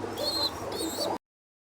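Caged pigeons in a breeding room give two short, bright calls over soft indoor room noise, after which the sound cuts off abruptly.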